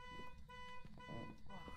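A house alarm system sounding in the ghost-hunting game Phasmophobia, a steady, faint electronic tone droning on without pause under people talking.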